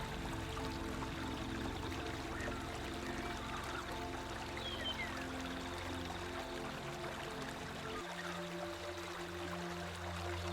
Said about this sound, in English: The gentle voice of the water is the plain's most soothing sound.